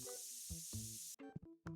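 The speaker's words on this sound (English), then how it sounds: "why am I spraying my own employee?" An aerosol spray can in TCG Card Shop Simulator blasts an employee with a steady, loud hiss for about a second, mixed with tonal game sounds, then cuts off into short, choppy in-game noises.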